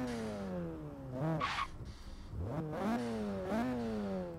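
A turbocharged Mazda Miata in Forza Horizon 3 revs up in sharp rising sweeps, dropping between pulls with brief pauses, the turbo whooshing on each lift, loud and close with no speech.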